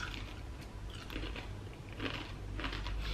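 Crunchy Nut Cornflakes being eaten, with close, faint crunching bites and chewing in soft bursts over a low background hum.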